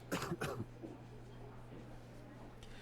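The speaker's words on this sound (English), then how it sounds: "Who's coughing?" A couple of quick coughs near the start, then quiet room tone with a steady low hum.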